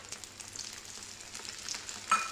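Oil sizzles gently around the edges of an egg flatbread (andyachi poli) frying in a pan, a soft steady crackle with small pops and a brief brighter flare near the end.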